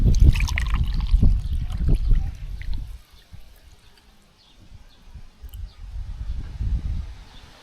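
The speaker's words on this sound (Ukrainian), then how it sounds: "Пройшло 10 хвилин, буду проціжувати." Fermented fireweed tea being strained, liquid pouring and trickling in two bursts separated by a quieter dribbling stretch, close and fairly soft.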